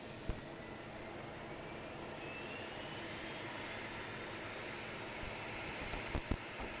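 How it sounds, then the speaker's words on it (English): Distant turboprop engines of an ATR or Dash regional airliner spooling up at a regional gate at Christchurch Airport, a steady broadband roar with a rising whine, heard alone at moderate distance. "Sounds like a ATR or a dash in the regional gate has started its engines up."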